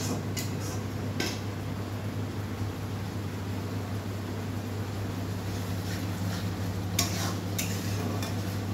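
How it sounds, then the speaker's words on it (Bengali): Masala spices are stir-fried in a pan, with a steady sizzle and a constant background hum under occasional sharp scrapes and clinks of a spoon against the metal, close and continuous. "মোটামুটি কষা হয়ে আসছে মশলাটা"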